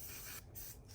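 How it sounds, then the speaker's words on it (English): Makeup setting spray for a matte finish misted onto the face in quick close bursts, a loud hissing spray broken by two brief gaps, no talking. "You have to hold your breath while you spray that one because that is strong."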